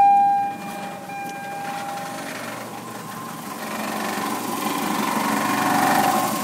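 A poorly maintained car engine runs with a rough, uneven drone that builds slightly in loudness, heard alone at moderate distance after a brief warning chime fades.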